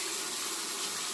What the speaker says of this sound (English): I'm going to rinse the razor